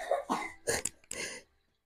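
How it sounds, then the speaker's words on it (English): Several close coughs in quick succession, harsh and throaty, then silence. "My entire house is coughing."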